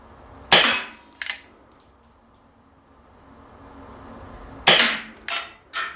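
An Umarex Legends Wildcard 45 CO2 airsoft revolver is fired outdoors: five sharp cracks come in two clusters, two shots followed after a pause by three quicker ones, with quiet stretches between.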